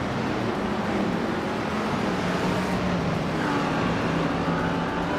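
A 1969 Dodge Charger Daytona racing in a video game, a steady, loud engine drone with road roar, holding at high revs and shifting slightly in pitch partway through.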